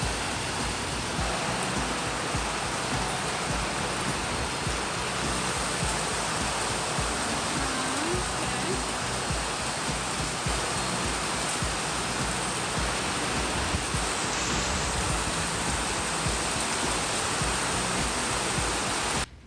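Summer rain falls outdoors as a dense, unbroken hiss that holds at the same level throughout, with no voices over it.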